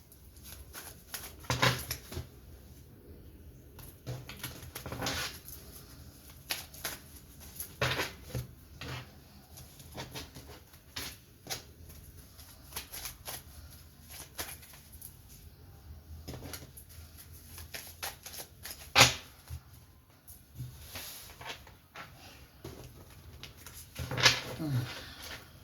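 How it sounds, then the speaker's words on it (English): A deck of cards is shuffled and split in two: scattered soft riffling bursts and light flicks at irregular intervals over a quiet background, fairly faint and close. "I'm just going to shuffle, split it in two, and then I'm going to use them"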